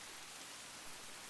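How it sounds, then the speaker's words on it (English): Steady, even rain hiss in a video game scene, a dense wash of noise with no distinct drops, close and continuous for a brief moment. "This hissing in my ears is the sound of rain."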